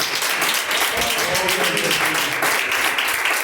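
A congregation at an IPDA church service applauds, a dense, continuous clapping that fills the room, heard near and fairly loud, with voices faintly mixed underneath.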